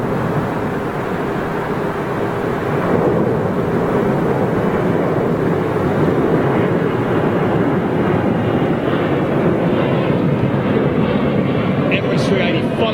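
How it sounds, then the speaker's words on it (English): Emirates Airbus A380 airliner at London Heathrow, a steady, loud broadband engine roar lasting throughout as the jet lines up on the runway, with no clear voices on top. "Emirates 380 pulling onto the active."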